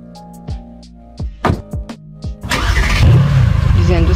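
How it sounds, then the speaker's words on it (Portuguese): A car engine in Second Life is cranked over in a series of sharp clicking turns, then catches and settles into a loud, steady running rumble with a rising whine, close and clear. "A ignição, automaticamente você vai ligar o carro e depois o motor vai começar a funcionar"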